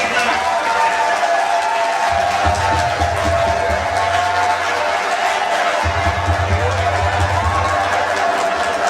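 Crowd noise fills a hall during an agricultural research council executive secretary's working visit, a broad wash of audience clapping and murmur running steadily under loud speech throughout.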